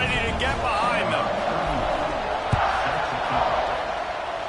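Stadium crowd in the College Football 26 video game, a steady wash of cheering and roar holding throughout at moderate level, with one brief thud partway through.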